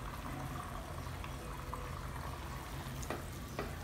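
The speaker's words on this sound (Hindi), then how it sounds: "इसी ऑयल में हमने प्याज को भून लेना है अच्छे से।" Ground onion fries in oil over a high flame, a dense, steady sizzle close up, with a few soft scraping knocks as it is stirred.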